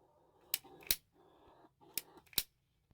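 Sharp metallic clicks from a pipe cutter tightening onto a water line pipe, four distinct snaps in two pairs, close and quiet against near silence.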